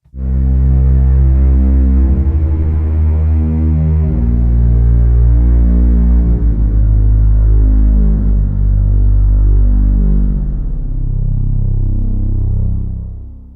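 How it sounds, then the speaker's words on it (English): A synthesizer pad preset, a hybrid warm string section, plays sustained, deep chords with a strong bass layer, loud and alone, the held chords shifting a few times before fading near the end. "So this is simply called hybrid warm string section as the initial preset,"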